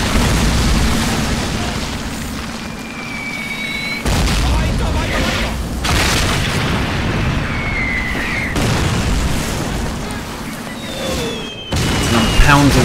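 Rockets launched and bursting in a tank combat video game: repeated heavy booms and blasts with whistling streaks between them, loud and close, under battle noise and someone talking.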